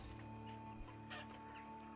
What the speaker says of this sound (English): Let's add in some more chickens.